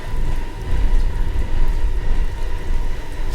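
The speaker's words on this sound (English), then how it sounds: "like it's raining indoors" Indoor rain in the horror game The Park, a dense steady rainy hiss with low rumbling underneath, loud and unbroken with no talking.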